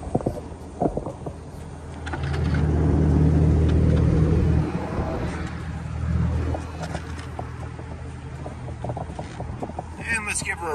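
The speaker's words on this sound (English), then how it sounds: "Let's go ahead and hop in real quickly here and let you hear the exhaust." A 2016 Chevrolet Corvette Stingray 1LT's exhaust rumbles low and close, swelling louder for a few seconds as it revs before settling back to a steady idle.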